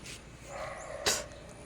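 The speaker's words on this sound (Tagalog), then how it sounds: "Tumatahol na naman." A dog barks once at mid-distance, a short sharp burst standing out over a faint background hum in an outdoor spot.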